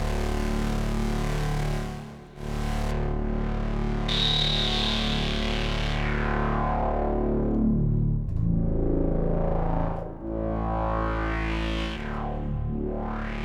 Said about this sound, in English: add a bit of reverb, or lots of reverb.